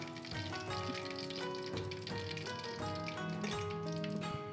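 Half a kilo of large shrimp frying in hot oil for a home-style shrimp and scallion dish, a steady crackling sizzle throughout under a persistent tonal background.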